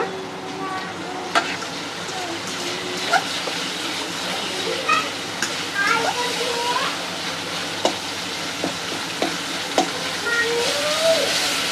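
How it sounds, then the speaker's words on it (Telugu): Ingredients for coconut chutney frying lightly in a pan give a steady sizzle with scattered stirring scrapes and clicks throughout, at moderate loudness and fairly close. "వీటిని కొంచెం లైట్గా ఫ్రై చేసుకుంటున్నాను మంచిగా మగ్గాలన్నమాట"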